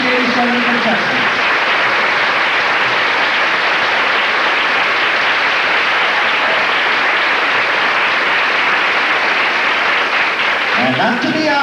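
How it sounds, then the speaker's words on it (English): A large audience at a 1987 Mundelein beauty pageant applauds loudly and steadily, with a voice faintly audible at the start and end. "Let's have a nice round of applause for them."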